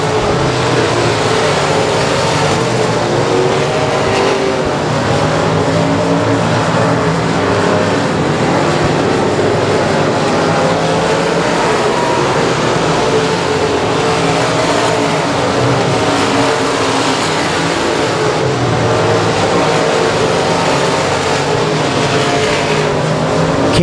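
Dirt track race cars roar continuously around Boothill Speedway, a loud dense engine drone of several cars that holds steady without a break for the whole stretch, with no talk audible over it.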